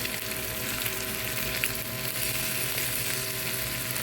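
Egg fries with pointed gourd peels in a pan. The sizzle is steady, close and even, with no talk.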